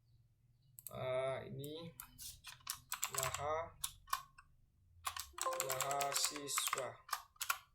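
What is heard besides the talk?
typing on a computer keyboard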